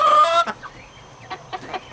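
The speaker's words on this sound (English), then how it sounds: "Okay, chicken." Chickens cluck close by while being fed greens, a brief burst of calling at the start followed by scattered short clucks and soft pecking noises.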